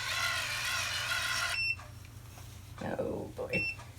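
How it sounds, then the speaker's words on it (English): An automatic curling iron's timer gives a rapid series of high electronic beeps for about a second and a half, then falls quiet as a voice speaks softly nearby. "There's the timer saying it's time to let it go."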